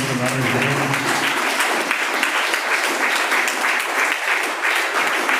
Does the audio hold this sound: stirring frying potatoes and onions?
no